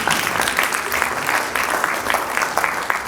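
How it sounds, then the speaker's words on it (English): Audience members at a pharmacy history book launch clap for the founder, a steady roomful of hands applauding with a few louder claps poking through. "Clap for him."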